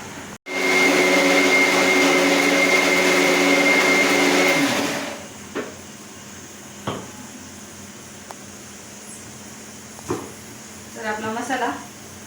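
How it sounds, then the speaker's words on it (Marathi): A kitchen mixer grinder runs loud and steady, grinding spices such as garam masala and coriander powder. After about four seconds it winds down and stops, leaving faint clinks and a few soft household sounds. "आणि ते पण मी मिक्सरला लावून घेते"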